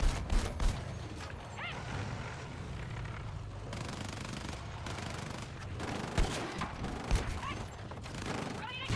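Heavy weapon fire from a Bradley fighting vehicle in the Battlefield 6 video game, rapid bursts of booming shots and explosions layered with engine rumble and battlefield din, dense and loud throughout with occasional sharper blasts.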